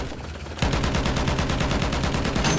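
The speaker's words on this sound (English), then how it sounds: "shooting an enemy soldier" Rapid automatic gunfire from a Battlefield 1 battle rings out loud and close, with a dense rattling burst of shots starting abruptly after a short lull and continuing to the end.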